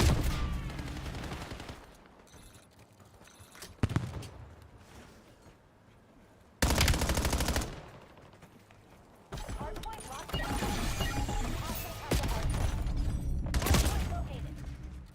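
Gunfire from Call of Duty Black Ops 7 multiplayer, with bursts of rifle shots and loud blasts that cut in and out in dense stretches, heavily mixed with game effects and someone talking over it.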